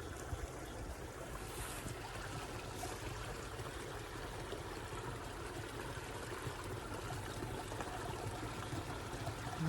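Steady, faint rush of irrigation water flowing into a rice paddy on a farm, a continuous wash of noise with no voices over it.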